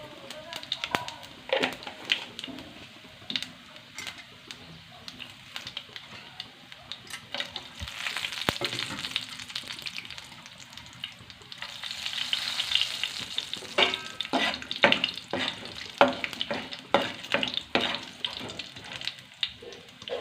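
Cumin and tempering spices sizzle in hot oil as a continuous crackling hiss, swelling louder partway through, with scattered sharp pops and stirring taps while someone talks over it at times.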